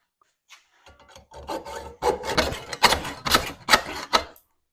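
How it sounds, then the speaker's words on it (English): A hacksaw cutting into a failed Ford fuel pump, starting with a few tentative scrapes and then settling into loud, close, rhythmic rasping strokes before stopping. "I think I'll get a hacksaw."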